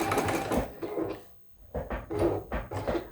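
A sewing machine stitches fabric and interfacing for a quilt block, running in several short close bursts separated by brief pauses.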